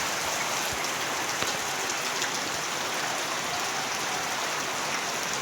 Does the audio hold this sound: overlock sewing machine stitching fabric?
no